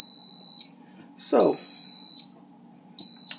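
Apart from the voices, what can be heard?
rice cooker beeping when finished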